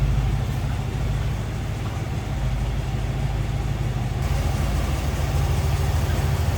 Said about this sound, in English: Just a nice rumble coming out of that 302 V8